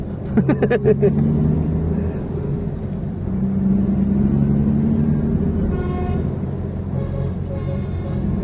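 A truck styled like Optimus Prime with a loud exhaust pipe passes on Roxas Boulevard, a steady low engine roar that swells mid-clip, with a brief horn-like toot near the end and voices in the background.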